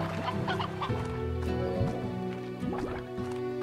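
Chickens in the game Slime Rancher cluck repeatedly in short irregular bursts, close and clear over a background hum and dripping sounds, with no talking.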